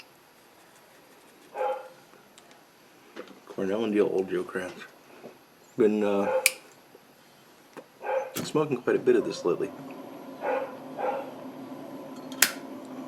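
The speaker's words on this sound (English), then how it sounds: "Sorry about the dog barking up there." A dog barks several times in short bursts, somewhat distant, while someone talks calmly close by.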